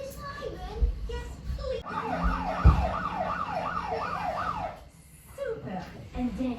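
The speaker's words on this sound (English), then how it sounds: "can we do the siren?" A wailing siren rises and falls in quick repeating sweeps for a few seconds, with voices talking before and after it.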